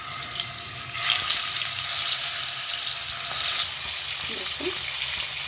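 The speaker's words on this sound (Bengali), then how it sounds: "তেল গরম হয়ে গেছে, এবার মাছগুলো ছেড়ে দিই।" Fish sliding into hot mustard oil in a kadai, a dense bright sizzle that swells louder after a second, then eases slightly, steady and close with no talk.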